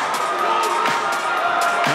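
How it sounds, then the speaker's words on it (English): A crowd at a Fusion 19 fight event between Jack Scott and Freddie Grinham roars and cheers loudly and continuously, with shouts and whistles rising out of the din and voices mixed in. "Look at the crowd go mental."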